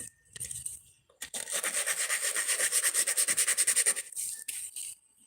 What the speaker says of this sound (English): I think it needs to be just sanded a little bit.